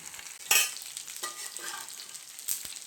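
Pandugappa fish fries in a pan while it is browned on both sides, giving a quiet hiss with a few brief scraping stirs and light clatters, no talking.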